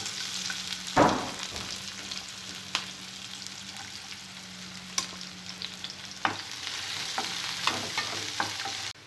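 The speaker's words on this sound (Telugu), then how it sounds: "దాల్చిన చెక్క, బిర్యానీ ఆకు, అల్లం ముక్కలు, పచ్చిమిరపకాయ ముక్కలు, ఉల్లిపాయ ముక్కలు వేసుకోవాలి." Cinnamon, bay leaf, ginger, green chilli and onion fry in hot oil for aloo kurma, a steady sizzle running throughout, with a sharp clatter near the start and scattered stirring knocks later.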